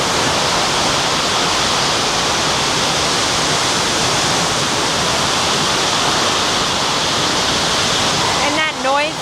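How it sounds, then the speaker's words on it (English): Water rushes loudly and steadily down a water park slide at Okana Waterpark, a constant broad roar close by, with a voice cutting in briefly at the very end. "that noise you hear in the background, it's one of the slides"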